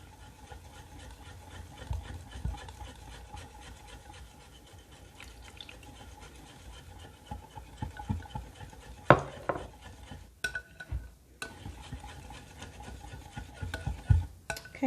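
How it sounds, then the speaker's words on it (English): Liqueur is slowly whisked into chocolate ganache, making soft, quiet scraping and stirring sounds against a bowl, with a few sharper clinks near the end. "Just kind of slowly whisk that in until it's incorporated a little at a time"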